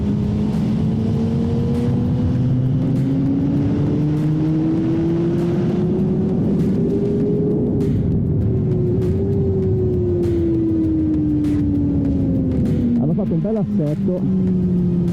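A 2024 Honda CBR600RR sport motorcycle on a wet race track, its engine loud and continuous with a rising then falling pitch as revs climb and drop, ending in a quick burst of shifting near the end, with someone speaking over it.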